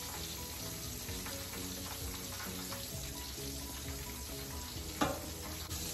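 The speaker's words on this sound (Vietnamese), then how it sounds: "Hai cái này mình ăn hôm nay thì mình chiên cho nó giòn, cho nó vàng luôn." Green rice sausage patties (chả cốm) fry in a pan until crisp and golden, giving a steady, close sizzle with scattered crackles and one sharper pop.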